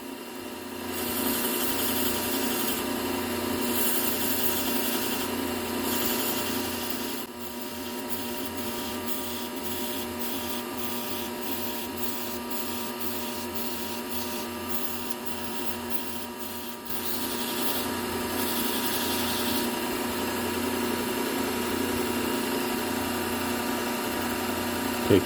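A belt grinder sharpens a serrated Wusthof knife, giving a loud, continuous abrasive whir with a steady motor hum that shifts briefly in texture midway and then resumes.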